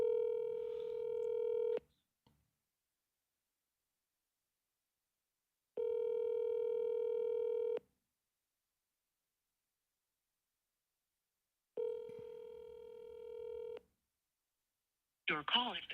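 A phone call being placed: three long, steady ringback tones repeat with silent gaps between them, clear and alone, followed by a brief burst of a recorded voice at the end.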